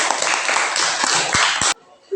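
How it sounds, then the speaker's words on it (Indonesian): Clapping from a classroom of students for a group presentation, a dense burst of many hands lasting under two seconds, then stopping abruptly. "Mari kita berikan aplaus untuk kelompok 2."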